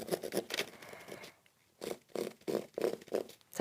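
A pen scratches and scrapes across a fabric placemat while tracing a shape, in short rhythmic rasping strokes with a brief pause, close and fairly quiet.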